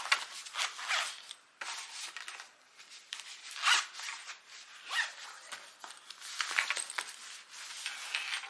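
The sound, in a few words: zippers on a travel bag being operated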